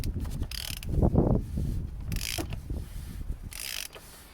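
A 1/2 inch ratchet on an extension clicks in short repeated bursts as it winds a 32mm drain plug out of a VW Scirocco 2.0 TDI, close up, with low rubbing and handling noise between strokes.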